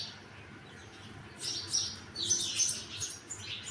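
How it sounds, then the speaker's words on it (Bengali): Birds chirp outside in the morning in quick, high, twittering bursts that cluster midway. They sound fairly faint and distant over a quiet background. "আর এদের পাখির ডাক শুনতে পাচ্ছ? কিচিমিচি করে ডাকছে।"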